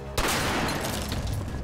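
Gunfire in a Spanish-language action film, a sudden sharp burst followed by a dense, sustained crackle of shots at moderate level.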